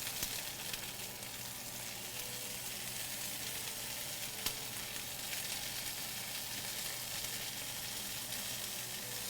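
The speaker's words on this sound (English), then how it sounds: "I already knew that my stovetop was gonna be destroyed from frying the halloumi today" Halloumi frying in oil in a pan on a stovetop, a steady, even sizzle and crackle that holds without a break, close and fairly quiet, with no voices over it.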